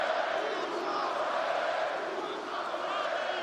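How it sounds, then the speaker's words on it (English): Arena crowd at a UFC 301 fight, a dense continuous roar of many voices with chant-like swells, steady and loud throughout. "The crowd just chanting what?"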